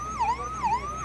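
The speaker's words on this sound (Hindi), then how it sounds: "3-3 एम्बुलेंस फंसी पड़ी है" An ambulance siren wails in a Shilphata traffic jam, a clear rising and falling tone cycling about twice a second, loud and steady over faint road rumble.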